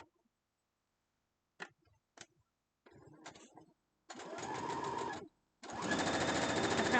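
A sewing machine stitches a quarter-inch seam on a quilt block in two steady, whirring bursts, with a pause between them, after a few soft handling clicks and brief fabric noises, close and clear.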